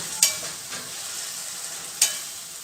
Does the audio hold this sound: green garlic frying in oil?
yes